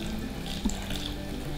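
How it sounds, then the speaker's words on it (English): Boiling water poured into s'mores cupcake batter in a home kitchen, a steady close liquid stream running for under two seconds with a brief splash midway, no talking. "Last thing to do, we're gonna add some boiling water."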